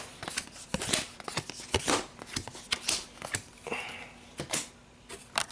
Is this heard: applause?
no